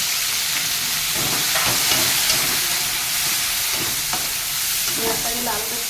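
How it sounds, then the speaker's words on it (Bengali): Green chili and onion frying in hot oil, a steady loud sizzle and hiss with occasional stirring scrapes, no voices. "এবারে আমি এই কাঁচা লঙ্কা একটা দেবো আর পেঁয়াজ দেবো ভাজা ভাজা করে দেবো"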